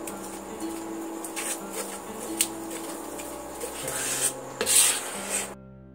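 A spoon scraping and rubbing through thick besan sandesh mixture in a pan, a soft rasping stir repeated several times at close range, with quiet background hum and no speech.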